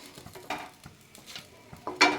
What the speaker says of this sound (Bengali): আমি সেকা সেকা করে ভাজা করছি, অল্প তেল দিয়ে, ননস্টিকে কড়াতে